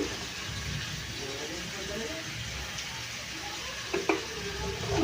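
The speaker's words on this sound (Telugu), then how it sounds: "ఇప్పుడు ఈ ములంకాయ ముక్కలు కూడా ఫ్రై అయిపోతున్నాయి కదండి" Radish pieces fry in a pan for a prawn dish, giving a soft steady sizzle with a couple of brief knocks near the end.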